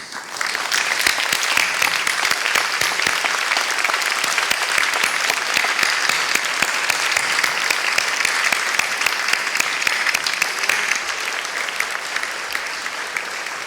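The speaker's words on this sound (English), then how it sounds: "express your gratitude by a round of applause" A standing crowd at a Monash Malaysia graduation ceremony gives a sustained round of applause, thick and even, with many overlapping claps filling the hall for over thirteen seconds without letting up.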